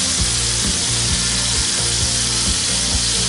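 Tikka pieces fry in about a tablespoon of oil in a pan over a medium flame, giving a steady, loud sizzle with a repeating scraping or ticking pulse roughly twice a second and no voices.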